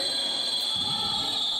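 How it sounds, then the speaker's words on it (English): A shrill, sustained basketball game buzzer blares continuously over crowd noise in a large indoor arena. "And that screeching buzzer sounds."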